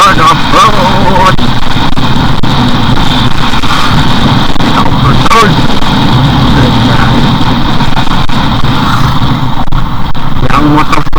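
Motorcycle ridden off-road on a damaged forest road, its engine loud and close with a steady droning rumble throughout, mixed with jolts and wind noise.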